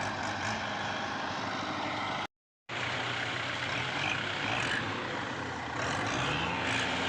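A tractor stuck and sinking during a rescue keeps its diesel engine running in a loud, steady, gritty drone, cut by a brief moment of silence before the rumble resumes, with no voices.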